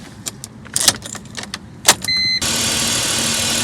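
A crashed supercar on an auction lot, keys rattling and clicks near the ignition, then the engine cranks and catches at about two seconds and settles into a steady, loud idle.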